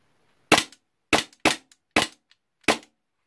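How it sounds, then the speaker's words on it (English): A G&G GTP9 gas blowback airsoft pistol, polymer slide, firing five sharp, loud cracks at uneven intervals over about three seconds, with short mechanical clacks trailing some shots and near silence between. "So it makes a nice crack when you pull the trigger."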